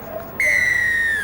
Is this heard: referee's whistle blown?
yes